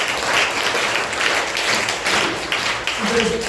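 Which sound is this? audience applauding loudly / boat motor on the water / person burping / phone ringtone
audience applauding loudly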